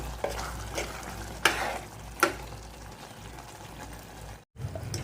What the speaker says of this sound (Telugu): ధనియాల పొడి వేసి మొత్తం కలుపుకోవాలి